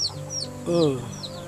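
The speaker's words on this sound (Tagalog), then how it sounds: "Pati mga manok mo, mga gutom." Hungry chickens cluck close by in short bursts, a few overlapping clucks and one longer warbling call, with faint voices in the background.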